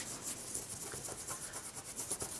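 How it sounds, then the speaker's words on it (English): Tape runner adhesive being rubbed off a surface by hand, a steady scratchy rasping friction with quick repeated strokes, close and fairly quiet, no talking. "Maybe that means we won't be able to rub the adhesive off like on this one."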